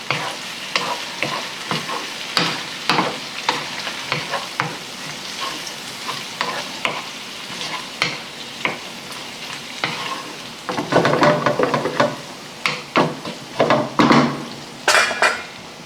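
Gambas (prawns) with chopped flat-leaf parsley sizzle loudly in a pan while a utensil stirs and scrapes, giving irregular clinks and knocks over continuous frying, close and without talk.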